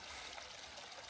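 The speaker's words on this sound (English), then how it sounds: "Tiny waterfall." A tiny mountain waterfall in Sequoia National Park gives a soft, steady rushing trickle, faint and continuous with no voices over it.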